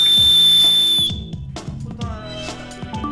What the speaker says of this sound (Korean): 호루라기는 범인을 당황시키고 자신의 위치를 알리는 도구